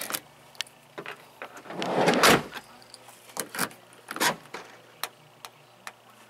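Power door lock actuator on a 1996–2005 Chevy Venture minivan cycling repeatedly, a series of sharp mechanical clicks and clunks with a louder rattling burst in the middle, close to the door.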